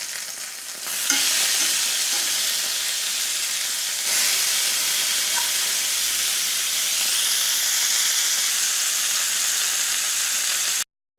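Chicken pieces seasoned with salt and cracked black pepper sear loudly in a hot pan, a bright steady sizzle that jumps when they are flipped and keeps crackling throughout.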